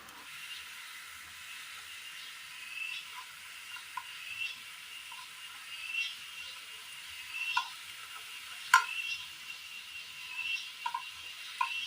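Kerala snacks being fried and turned give a faint, even hiss of sizzling with scattered small pops and crackles, heard alone and fairly quiet.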